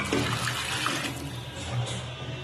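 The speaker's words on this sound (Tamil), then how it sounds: "அந்த மட்டன் தண்ணி எடுத்து ஊத்திக்கலாம்" Mutton stock water poured into a pan for mutton kolambu, a steady broadband liquid rush running the whole moment without a break, close and moderately loud.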